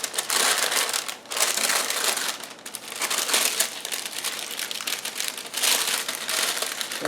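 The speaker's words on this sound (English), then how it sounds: "we're just going to put parchment inside this box" Parchment paper being crinkled and pressed into a box, close and steady crackling and rustling in bursts with short pauses, no voices.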